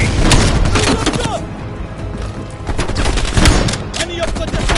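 Sustained machine gun fire in Call of Duty Black Ops Cold War, with dense rapid bursts and heavy booming impacts running the whole time and loud battlefield noise all around.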